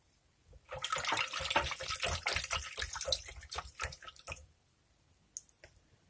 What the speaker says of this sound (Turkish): Üzerine bir su bardağı süt ve bir su bardağı su koyarak karışmaya devam ediyorum.